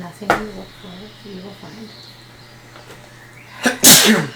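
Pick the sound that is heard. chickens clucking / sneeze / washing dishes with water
sneeze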